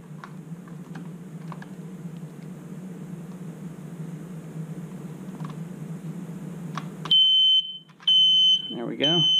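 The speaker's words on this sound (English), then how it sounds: "There it goes. Beeper's going off right now." A newly installed smoke detector linked to a home monitoring system is set off during a test. After a stretch of quiet clicking and room noise, a loud, piercing electronic beeping starts near the end and sounds in close, repeated bursts.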